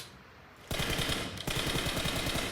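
Rapid automatic gunfire in PUBG Mobile breaks out after a quiet start, a loud close burst of evenly spaced shots that pauses briefly and then resumes just as fast.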